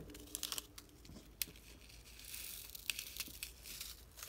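Small diamond art drills are shaken out of a cut plastic packet, giving faint, soft rustling with scattered light rattling ticks and crinkles.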